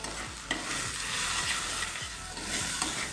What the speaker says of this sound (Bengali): এবার একটু সময় নিয়ে মশলাটাকে কষিয়ে নেব